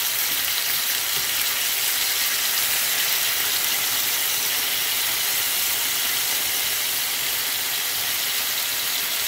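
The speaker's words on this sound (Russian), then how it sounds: "Все, жарим со второй стороны" Meat fries in a pan with a loud, steady, bright sizzle and hiss that runs unbroken throughout, close up and with no talking.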